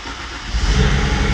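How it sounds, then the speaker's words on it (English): A rebuilt BMW E92 335i engine fires up after cranking, catching on its first start and rising into a loud, close, rough idle that lasts just over a second. "this is the first startup after tearing it down"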